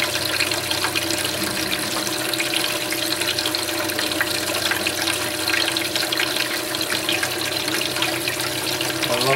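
Steady running water rinses a spoon during gold panning, a continuous close splashing flow with no talk over it.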